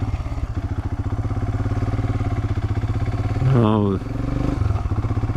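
Royal Enfield Himalayan motorcycle ridden off road with a pillion, its single-cylinder engine thumping steadily and loud throughout, revving briefly higher near the end while someone talks over it.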